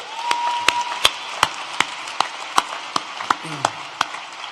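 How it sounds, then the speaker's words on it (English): An audience at a university environmental design commencement ceremony claps in steady, evenly spaced hand claps with a broader wash of applause beneath, moderately close, fading out over a few seconds. "Give them another hand, please."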